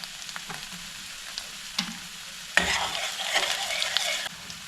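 Spices and potato chips frying in oil in a pan, starting as a soft sizzle and swelling into louder crackling as more goes in and gets stirred, close and with no talking.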